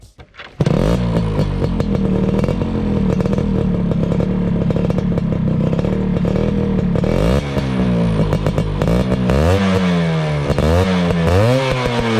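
A four-gear kickstart motorcycle engine starts abruptly and runs loud and close, a rough clattering drone that holds steady, then climbs and dips in pitch through several revving accelerations near the end, with no talk.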